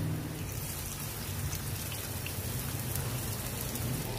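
Green chillies, three of them, frying in hot oil for crispy potato cutlets, giving a steady dense sizzle and crackle that runs unbroken from start to finish with no voices.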